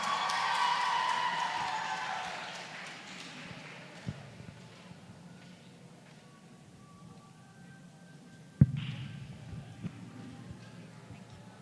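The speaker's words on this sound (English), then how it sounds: "Come on guys, a big round of applause for them" Applause and cheering at a Model UN closing ceremony for award recipients, loud for the first couple of seconds and then fading into a quiet hall with a few scattered knocks.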